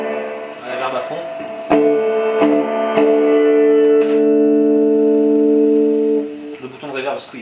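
Electric guitar played through an M.P.Electronics effects unit with reverb turned all the way up, struck chords swelling into a long, washy sustain that rings on for seconds before fading.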